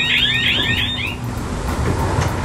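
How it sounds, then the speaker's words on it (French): Aboard the Maxi Edmond de Rothschild racing trimaran, an electronic heel alarm sounds as a fast series of rising warbling beeps over the roar of wind and rushing water, then cuts out partway through. "Le bruit c'est l'alarme de gîte"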